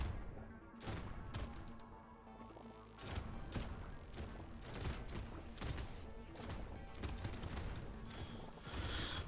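Five shotguns firing nonstop in the arcade game Brotato, a dense, loud barrage of overlapping blasts and crunchy impacts that runs steadily throughout with no pauses.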